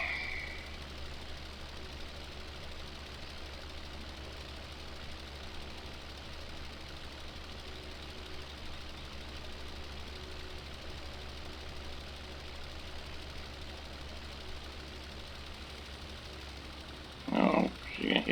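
A tractor engine in the Farming Simulator 17 game, an open-cab model with a sunshade, hums steadily and evenly at idle for most of the stretch, with a louder burst of other sound near the end.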